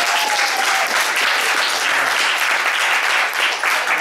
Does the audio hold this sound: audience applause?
yes